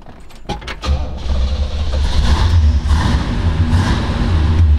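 A 1966 Pontiac Bonneville convertible's 421 cubic inch four-barrel V8 cranks with a few quick clicks, catches and settles into a deep, loud, rumbling idle with rising revs, heard close up.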